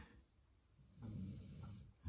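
A pet snores nearby, one slow, low, rumbling breath that swells for about a second and then fades. It is soft and close, and no one speaks.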